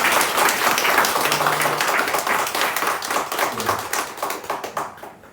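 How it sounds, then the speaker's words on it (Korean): A church congregation claps together to celebrate members' birthdays at a Sunday morning service, a dense, steady round of applause that gradually thins and fades at the end. "축하의 박수 한번 하겠습니다."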